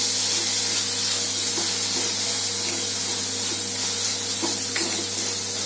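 Vegetable sandwich filling with chopped coriander cooking in a pan gives a steady, even sizzle and hiss with a low constant hum beneath, close and uninterrupted, no talking.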